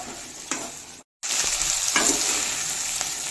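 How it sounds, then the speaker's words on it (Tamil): Onions, dried berries and garlic frying and being stirred in a pan, a steady hiss of sizzling with scraping stir strokes and a brief silent gap; no talking. "இந்த வெங்காயம் போட்ட வெங்காயம் எல்லாமே நல்லா வதங்கட்டும்."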